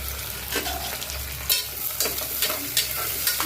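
Onions sizzle and fry in hot oil in a pan for pepper chicken, with a steady close sizzle broken by repeated scraping stirs of a spoon.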